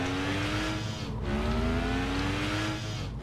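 BMW boosting on nitrous in Roblox Vehicle Simulator: a steady, loud engine drone whose pitch climbs across the whole stretch, dipping briefly around the middle, with no talking.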